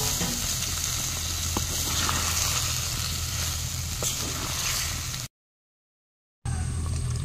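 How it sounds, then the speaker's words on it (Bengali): Chicken masala sautéing in a pan with added water gives a steady, close, even sizzle and hiss with a few faint clicks, broken by a sudden second of silence before resuming. "জল একটু দিয়ে দেব, দিয়ে আবারও কিছুক্ষণ কষিয়ে নেব।"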